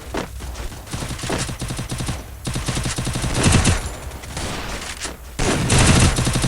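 Rapid UMP submachine gun fire in the mobile shooter Free Fire, loud close bursts of fast automatic shots that run almost continuously with brief gaps.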